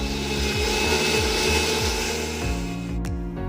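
An electric mixer grinder whirs loudly and steadily as it grinds roasted chana dal into powder, with a rhythmic cycling pulse in the motor drone and a brief clatter near the end.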